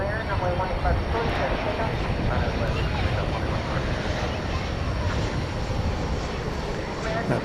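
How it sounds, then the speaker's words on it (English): A jet airliner taking off at night from runway 18 right at DFW Airport, the runway nearest the listener, gives a steady, loud, broadband engine roar that holds throughout without a break. "it takes off from 18 right, which is the closest runway to us"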